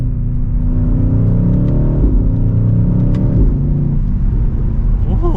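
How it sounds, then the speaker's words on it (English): A 2023 BMW XM's exhaust booms and rumbles under mild acceleration from second gear, a steady loud low drone with rising engine pitch heard from inside the cabin. "Mild acceleration. We're up to speed. Hopefully you can hear that exhaust."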